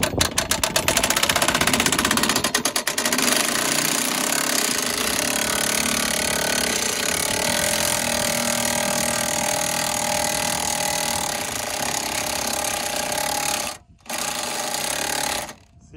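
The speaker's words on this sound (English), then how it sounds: "Let's test out this freshy Princess Auto jack with the DeWalt." A DeWalt impact wrench drives a Princess Auto jack upward with a loud, rapid rattling hammer that starts with choppy bursts and then runs steadily, stopping briefly near the end before starting again.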